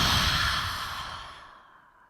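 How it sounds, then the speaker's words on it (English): A long, audible exhale through the mouth at the close of a vinyasa yoga flow, loud and near at first, then trailing off into silence. "Exhale through the mouth."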